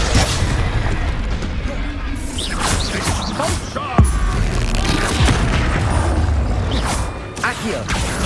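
A Confringo fire spell explodes in the Hogwarts Legacy video game, a loud boom near the four-second mark set within dense, continuous combat noise and crashes, with voices nearby.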